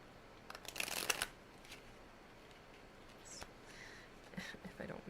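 A deck of cards is shuffled close up in a quiet room, a quick burst of riffling flutter followed by softer card slides and taps.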